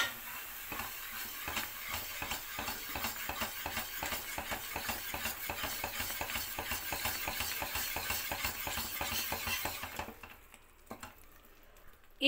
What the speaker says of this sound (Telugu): సో అంతవరకు చేస్తూనే ఉండండి, కలుపుకుంటూనే ఉండండి, చేస్తూనే ఉండండి